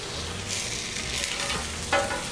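Fatty pork belly slices sizzle on a Blackstone flat top griddle with no added oil, a steady, moderately loud hiss and crackle, with one sharper clatter near the end and no voices.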